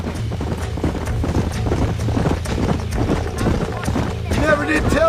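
Horses' hooves clip-clop steadily at a trot in the Red Dead Redemption video game, a dense rhythmic patter under game music and ambient sound, with a brief voice near the end.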